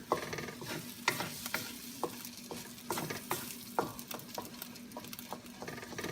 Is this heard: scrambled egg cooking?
yes